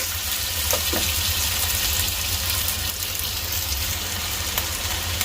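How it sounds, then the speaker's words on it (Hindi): Potato pieces fry in oil in a pan for a potato bhujia, giving a steady, close sizzling hiss throughout with a few faint scrapes, and no talking. "अभी आलूओं को आपने थोड़ा सा भूनना है।"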